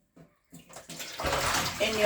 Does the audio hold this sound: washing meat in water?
yes